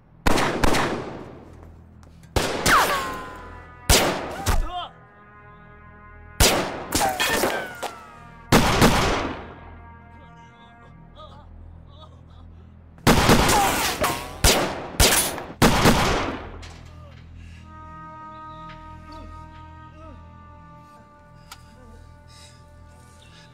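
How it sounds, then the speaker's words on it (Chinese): Guns fired into the sky in a Hong Kong police thriller film, a series of loud sharp gunshot bursts in irregular clusters with ringing decay between them, no talk. "向天开枪啊！"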